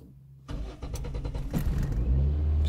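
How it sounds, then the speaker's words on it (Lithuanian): A car engine cranks and catches after a silent moment, then idles roughly with uneven, stumbling firing after a K-data kdFi firmware update, close and loud. "Vis tiek biškį tą variklį kerta."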